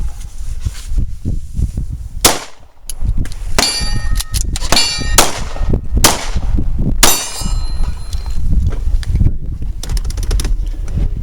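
Gunshots ring out in sharp bursts at a shooting drill during a carjacking survival workshop, loud cracks with metallic clangs and pings as rounds strike steel targets, spaced irregularly over several seconds.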